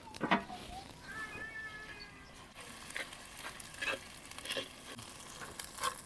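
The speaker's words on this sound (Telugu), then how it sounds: "అల్లం వెల్లుల్లి పచ్చివాసన పోయేంత వరకు వేయించిన తర్వాత" Ginger garlic paste frying with onions in a pan over a wood-fired stove, a soft steady sizzle with scattered scraping stirs, the spoon knocking the pan now and then.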